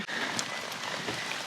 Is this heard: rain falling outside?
yes